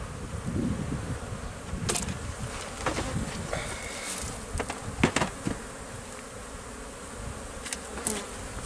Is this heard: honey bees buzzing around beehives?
yes